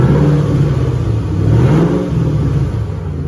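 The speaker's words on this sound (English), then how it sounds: "Nice, amazing sound on this Mustang." A 2008 Ford Mustang GT engine revs steadily, a loud, close, deep droning roar that swells and eases slightly over a few seconds, with no talking.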